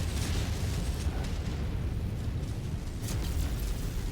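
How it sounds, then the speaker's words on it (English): A missile explosion in MechWarrior 5: Mercenaries: a sustained, loud rumbling roar of low booming noise that holds steady across the whole moment, with a brief brighter burst near the end. "Incoming missile"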